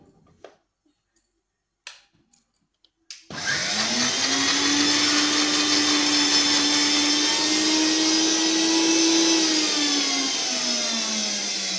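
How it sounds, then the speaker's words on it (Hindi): An electric kitchen grinder whirs steadily at high speed, blending dry fruits with milk into a smooth paste; a continuous loud motor drone starts after a few soft clicks and runs alone for about eight seconds. "तो मैं इसे ग्राइंड कर लेती हूँ"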